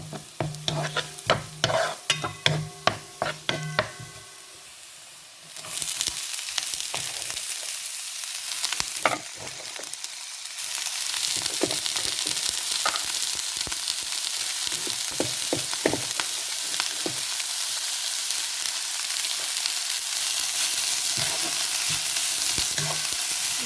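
Chopped ivy gourd (kovakkai) dropped into a hot pan of sautéed ingredients and stirred, first with sharp spoon scrapes and clinks, then a loud steady sizzle of frying with repeated stirring scrapes, close and continuous.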